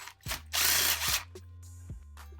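Hand ratchet loosening bolts on a B16 transmission during a third-gear grind repair, giving a few short clicking bursts, one longer spell of rapid ratcheting in the middle, close and fairly loud, with no talking.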